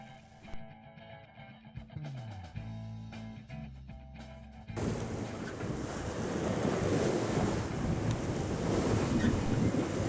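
Aboard a sailboat crossing from St Thomas to Ft Lauderdale, a steady roar of wind and breaking ocean waves rises suddenly after a few seconds of music and then holds loud and constant.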